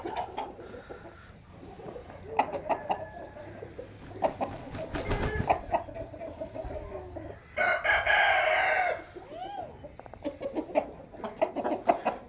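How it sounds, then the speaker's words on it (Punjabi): Aseel rooster weighing about 2800 grams crowing in a rural yard near Noorpurthal, with a loud sustained crow in the middle and scattered clucks and bird calls around it. "ਇੱਕ ਕੁੱਕੜ 2800 ਗ੍ਰਾਮ ਦਾ ਹੈ।"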